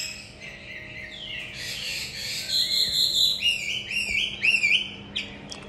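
A hwamei, the Chinese melodious laughingthrush, sings a series of clear whistled phrases and trills, moderately close, over a faint steady background hum.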